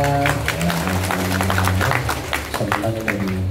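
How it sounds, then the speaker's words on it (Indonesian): An audience claps during an Islamic pengajian religious gathering, a scattered burst of hand claps that rises and then thins out. A voice or tonal sound carries along underneath the clapping. "Tepuk tangannya mana?"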